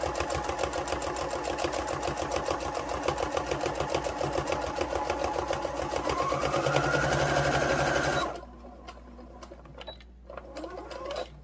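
A sewing machine stitches fabric for a stuffed moose in a fast, steady mechanical rattle for about eight seconds, then stops, leaving a quiet room with a few faint clicks.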